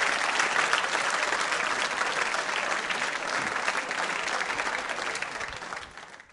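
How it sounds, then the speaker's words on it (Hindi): A school audience at a quiz show breaks into loud, sustained applause, dense clapping that holds steady for several seconds before slowly tapering off. "तालियां जोरों से बजाइए, जोरदार तरीके से"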